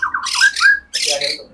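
A caged bird squawks loudly and close by in two harsh, raspy bursts separated by a short pause, each burst carrying a strained, screeching tone.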